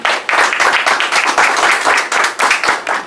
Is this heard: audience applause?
yes